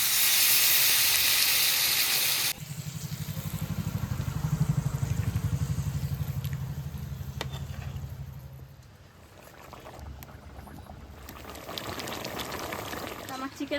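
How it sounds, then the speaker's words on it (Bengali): Water poured into a pan of sautéed spiced country chicken with potato brings a loud bubbling, boiling hiss after an opening burst of bright sizzle, steady and close under faint speech. "আমার চিকেন কষানো হয়ে গেছে, এবার আমি জল দিয়ে দেবো।"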